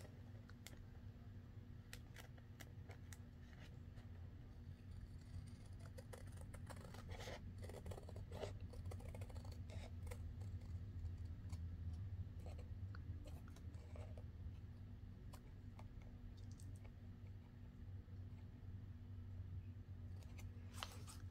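Scissors snip and rasp through paper while an altered book is trimmed, a run of small close cuts and rubs over a steady low hum, with no talking.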